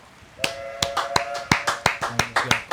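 About a dozen sharp hand claps in a steady rhythm, close and crisp, over faint background tones.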